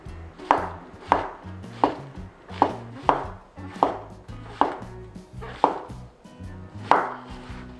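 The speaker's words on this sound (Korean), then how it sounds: "얇게 썰어 주시면 돼요" A knife thinly slices king oyster mushrooms on a cutting board in nine or so crisp, evenly spaced strokes, each a close sharp thud, with no talking.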